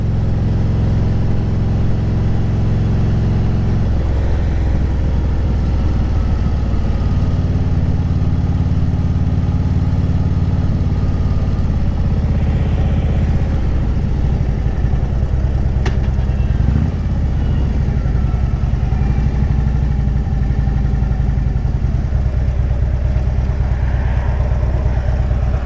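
A 2010 Harley Davidson Street Glide Ultra motorcycle engine drones loudly and continuously while riding, its low rumble shifting in pitch through gear changes, with no talk over it.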